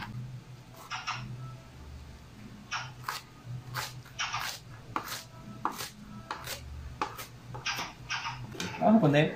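A knife chops Swiss chard on a cutting board in sharp, irregular close thuds, with pauses between bursts and a voice speaking near the end.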